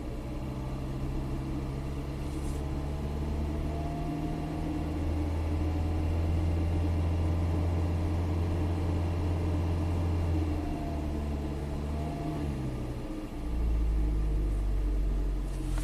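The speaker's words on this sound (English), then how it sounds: "Now we got engine charging the battery." A Toyota Prius petrol engine runs steadily to charge its low hybrid battery, producing a quiet, even low rumble and hum that holds unchanged for the whole stretch, with no voices.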